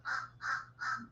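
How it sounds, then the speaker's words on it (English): Crows call in three loud, evenly spaced caws, each a harsh burst close by, with a low steady hum underneath and no talking. "I wish these crows would shut up."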